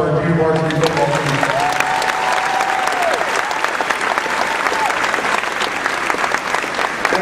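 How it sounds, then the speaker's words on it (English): A school crowd claps steadily for a junior varsity football team at a 2016 Sabercats team introduction, dense applause filling the whole stretch. "So round of applause for our junior varsity football team."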